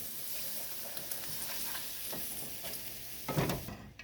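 Broth being stirred into flour and mushrooms in a pan on medium-high heat for Salisbury steak gravy, a soft continuous sizzle with light scraping strokes and a louder clatter of stirring near the end.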